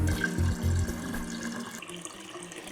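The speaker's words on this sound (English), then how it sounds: "I'll use the just tepid water from the tap." Tepid tap water pours steadily into a Pinter fresh press, a close, continuous splashing stream that softens and thins toward the end.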